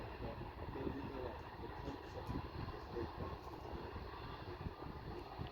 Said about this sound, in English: let's watch this plane take off